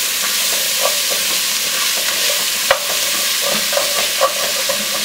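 Onions and celery sautéing in a pan, a loud near sizzle broken by stirring scrapes and a few clacks of a utensil against the pan.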